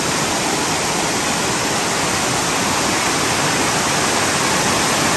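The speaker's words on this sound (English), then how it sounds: "Waterfall has a very strong breath this morning." A roaring waterfall at Crabtree Falls on the Blue Ridge Parkway in North Carolina, a steady dense rush of falling water that holds at an even, loud level throughout with no voices.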